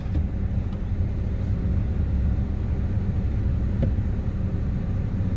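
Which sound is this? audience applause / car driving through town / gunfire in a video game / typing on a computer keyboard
car driving through town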